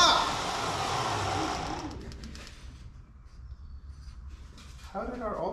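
A truck engine cranked by its starter, a rapid rhythmic whirring buzz for about two seconds that drops into a quieter, uneven rumble, with a voice briefly at the end.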